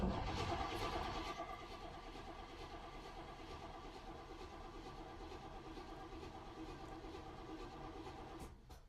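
A 1973 Oldsmobile engine cranks over steadily on the starter, a sustained, even churning that runs for several seconds without catching, heard fairly faint and alone.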